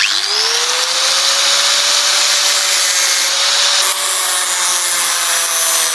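A cutting machine grinds steadily through rusted nuts on a water pump motor, a loud, continuous abrasive whine with a rising then level pitch and a slight shift near the end, with no talking.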